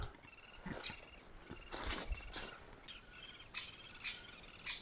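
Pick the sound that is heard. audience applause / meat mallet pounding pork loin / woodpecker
woodpecker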